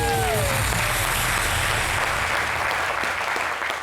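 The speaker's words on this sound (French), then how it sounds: "On applaudit pour Glee." Studio audience applause on a French variety television show, dense and continuous at even loudness, with a brief tonal sound at the start and tapering slightly near the end.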